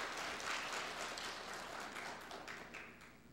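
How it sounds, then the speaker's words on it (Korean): A church congregation applauds the choir during a Korean service, a steady wash of many hands clapping at moderate distance, slightly fading toward the end. "우리 한번 성가대에 위해서 박수 한번 올리시죠."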